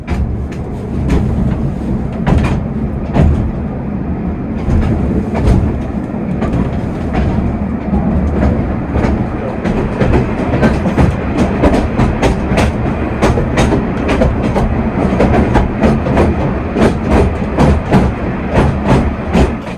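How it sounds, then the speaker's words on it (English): The Hythe Pier Railway's small third-rail electric train runs slowly along its 640-metre pier at about 12 mph, heard from inside the car as a steady rumble with repeated rail clicks and clatter throughout. "a small electric locomotive that is powered by a third rail on the side"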